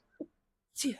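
A single sharp sneeze bursts out near the microphone after a brief quiet breath, with a faint murmur before it in a quiet porch setting.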